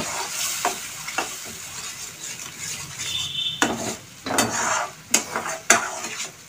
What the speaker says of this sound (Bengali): হাফ চামচ হলুদের গুঁড়ো, লঙ্কার গুঁড়ো। এবার আমি কিছুক্ষণ কষিয়ে নেব।